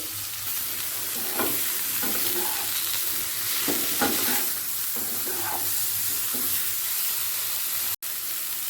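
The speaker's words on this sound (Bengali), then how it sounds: "ফুলকপিটাও হালকা লাল করে ভাজা হয়ে গেছে" Cauliflower fries in a pan with a constant close sizzle and hiss, broken by soft rhythmic scrapes and stirs every second or so, and no voices.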